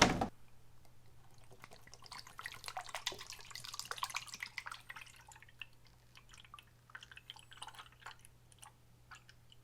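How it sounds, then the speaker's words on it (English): Fluid pours and trickles into the brake fluid reservoir of a Volkswagen GTI Mk5, a soft and quiet liquid sound with faint drips over a low hum. It follows a sharp knock at the start. "So I'll be filling this up, tapping this onto the brake fluid reservoir,"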